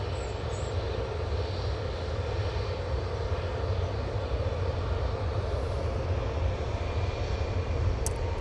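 Ryanair jet engines spooling up at Manchester Airport, a deep, steady, loud engine roar with low rumble that holds evenly throughout, no talk over it.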